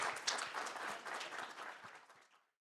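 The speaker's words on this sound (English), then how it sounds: "We can give them a round of applause as they are coming up." Audience applause rings out at a university conference innovation competition as a student team comes up on stage, steady dense clapping that thins and fades away near the end.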